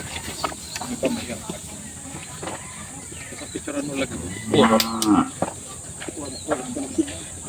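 Cattle low and moo around a livestock dealer's yard where twenty head are being bought, with a louder, drawn-out moo in the middle amid the quieter background calls and bustle of the herd.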